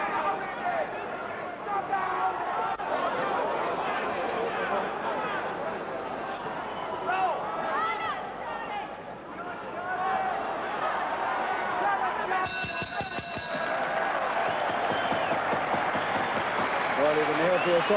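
The arena crowd at the Charlie Magri vs. Jose Torres rematch roars and murmurs continuously throughout the bout, with a voice speaking over the din.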